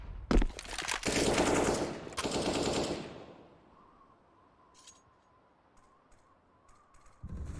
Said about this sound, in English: a battle, an exchange of bullets doing absolutely nothing